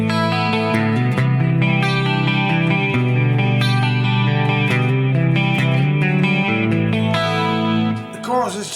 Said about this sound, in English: there's this is a Dimension chorus that's in here.